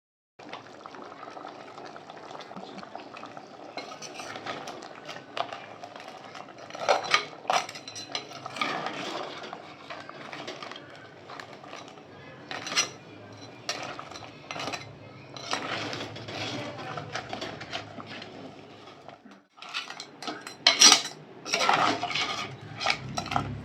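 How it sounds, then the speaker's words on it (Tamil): Metal utensils clink and scrape against a pan of crab curry with coconut in steady, uneven bursts, with a wet stirring sound running underneath throughout. "நம்ம தேங்காய்லாம் ஊற்றிட்டு நல்லா மிக்ஸ் பண்ணியாச்சு"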